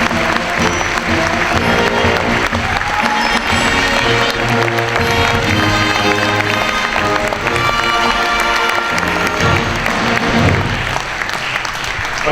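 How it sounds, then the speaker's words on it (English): A crowd applauds veterans at a Veterans Day event, loud continuous clapping and cheering blended with music throughout. "Let's give all of our veterans one big round of applause."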